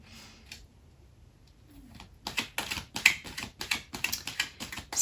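Quick, crisp shuffling of an oracle card deck, a run of rapid riffling flicks and snaps after a quiet start, close and fairly loud.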